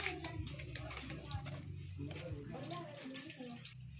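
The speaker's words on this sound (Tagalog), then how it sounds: "Malakas yung tubig dyan." Water gushes hard from a hose, a steady broadband rush, while people talk over it throughout.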